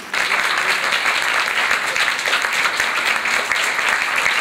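Sustained theatre audience applause, a dense, even wash of many hands clapping at close range, loud and continuous throughout.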